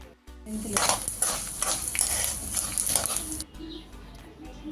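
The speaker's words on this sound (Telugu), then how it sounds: "ఏదైతే పొడి చేసుకోవడానికి ఇంగ్రీడియంట్స్ తీసుకున్నామో అవి అందులో వేసుకుని దూరగా వేయించుకోవాలన్నమాట" Spice ingredients dry-roasting in a little oil in a pan, a busy crackling sizzle with stirring scrapes running steadily for a few seconds before easing off.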